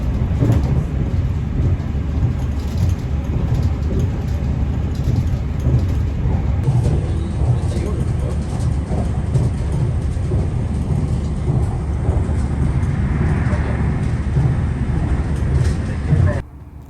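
A train pulls out of the Belfast suburbs in Northern Ireland, its loud, steady low rumble filling the whole ride and cutting off abruptly at the very end.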